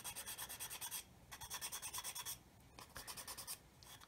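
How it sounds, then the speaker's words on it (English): A medium sanding stick files a mould seam off a plastic part of an Airfix 1/24 F6F-5 Hellcat model kit. Quiet, close, rhythmic back-and-forth rasping comes in three short bursts with brief pauses between them. "So I'm just taking that away with this medium sander."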